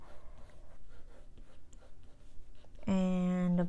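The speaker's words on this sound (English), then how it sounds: "you're gonna draw same type of sweet squeezed eye" A pencil makes soft, close, intermittent scratching strokes on paper while drawing an anime eye. A loud sustained tone cuts in near the end.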